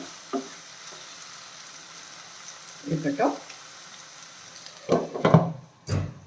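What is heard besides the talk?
stirring and frying tomatoes for tomato chutney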